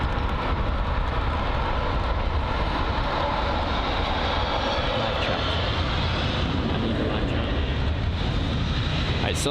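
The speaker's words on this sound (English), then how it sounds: "So that's the Air Serbia A319." An Air Serbia Airbus A319 at London Heathrow gives a steady, loud, broad jet roar that holds evenly throughout.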